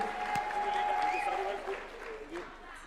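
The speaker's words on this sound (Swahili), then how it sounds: "Makofi kwa Leader of Majority" Audience applause for the Leader of Majority at a UDA National Governing Council meeting at State House, a steady wash of clapping throughout with a voice or tone running alongside, fading slightly toward the end.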